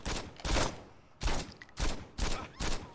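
SMG fire in Saints Row 2, heard as five loud, close bursts of rapid shots separated by short pauses.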